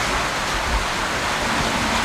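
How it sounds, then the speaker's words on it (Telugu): Heavy rain falls in a steady, loud wash of dense noise close by, unbroken across the whole short span with no voices. "వర్షం పడుతుంది కదా. వర్షం మస్తు పడుతుంది."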